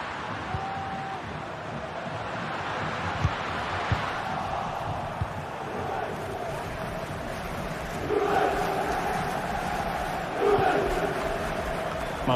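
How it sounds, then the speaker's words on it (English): Steady roar of a large virtual stadium crowd during a football video game match, a dense wash of cheering that swells louder in the final seconds, with no commentary over it. "The crowd encouraging him to take it on."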